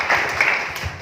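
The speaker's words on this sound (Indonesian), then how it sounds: "Kasih tepuk tangan mempermuliakan Tuhan ini" Brief burst of congregation clapping during a church sermon, a dense wash of hands heard at moderate volume for about a second.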